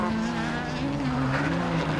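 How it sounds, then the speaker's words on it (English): Super1600 rallycross car in a British RX round skipping across a loose gravel section, its engine droning loud and close with a steady harmonic whine, over a commentator's voice. "Car skips its way across that loose section"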